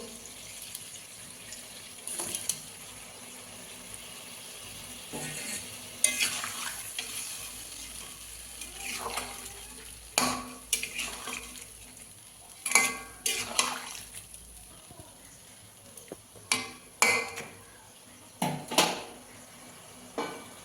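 Fish go into a boiling papaya curry with stinging catfish, followed by stirring: faint bubbling and wet splashes, then a series of scattered metallic clinks and scrapes of a utensil against the pot, growing more frequent toward the end.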